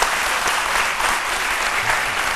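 Sustained audience applause at a studio broadcast after a short lesson about Easter eggs, dense steady clapping from start to finish with no voices over it.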